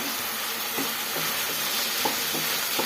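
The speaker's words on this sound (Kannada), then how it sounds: "ಇವಾಗ ಸ್ವಲ್ಪ ಕೊತ್ತಂಬರಿ ಸೊಪ್ಪು ಸೇರಿಸ್ಕೊಳ್ಳೋಣ. ಒಂಚೂರು ಶುಂಠಿನೂ ಸೇರಿಸ್ಕೊಳ್ತಾ ಇದ್ದೀನಿ" Coriander and ginger stirred in a hot pan for tomato chutney, a continuous sizzle with a few soft scraping stirs of the spoon, close and steady.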